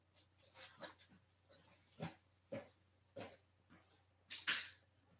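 A puppy makes a series of short, soft snuffling yips and whimpers at close range, spaced about every half second to a second, ending in a brighter squeak over a low indoor hum.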